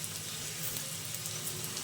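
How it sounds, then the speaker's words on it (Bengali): Rolls frying lightly in a pan give a steady, close, even sizzle of hot oil that keeps going without a break. "এই কারণে আমি হালকা একটু ভাজি করে নিলাম"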